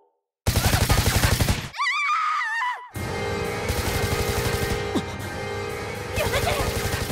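Sustained rapid gunfire bursts from an action scene in a Japanese voice drama, loud and dense, broken by a short pause where a sharp voice-like cry cuts in, then more continuous automatic fire.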